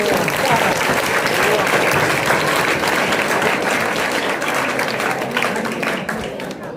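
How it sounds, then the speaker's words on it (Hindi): Audience applause fills an award ceremony at an academy in Manjhaul, Begusarai, loud continuous clapping throughout that eases slightly toward the end, with some crowd murmur mixed in. "वाह, ताली बजाइए।"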